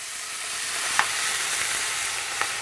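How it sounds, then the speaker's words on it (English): Tomatoes sizzling in a hot pan as they are stirred, a loud, even, close hiss with a couple of faint utensil clicks, and no voices. "carefully add in your tomatoes. You want to stir."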